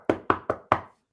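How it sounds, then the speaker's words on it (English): Four firm knocks on a door in quick succession, close and clear, evenly spaced with a short ring after each. "Knock knock."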